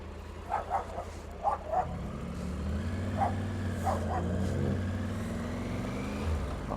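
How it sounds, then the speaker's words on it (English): Small dogs bark in several short yapping bursts by the roadside during a motorcycle ride, heard over the steady drone of the engine and passing traffic. "small little angry dogs when you're motorcycling"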